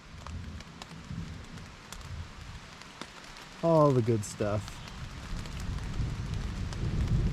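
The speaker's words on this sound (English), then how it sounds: "I got rained on. It's thundering." Steady rain patters on a surface throughout during a backpacking hike in the Maine woods, with a brief stretch of someone talking in the middle; no distinct thunder crack stands out.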